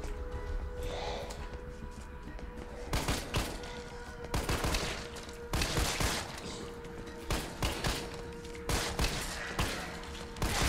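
Pistol fire in the video game Resident Evil 3: sharp, loud shots come singly and in quick clusters, with gaps of low ambient game sound between them.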